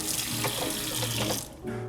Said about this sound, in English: But before I get started, I'm gonna wash my hands.